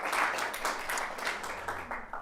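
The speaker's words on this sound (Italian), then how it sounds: "lo accogliamo con un applauso." An audience applauds to welcome a guest speaker, performer Ric Dufer, at the Barco Teatro, a steady wash of clapping lasting a couple of seconds at moderate distance with no talk over it.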